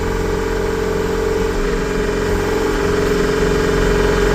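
A vehicle engine with newly done intake and exhaust idles steadily while being parked in a wooden shed, a loud, even rumble with no break.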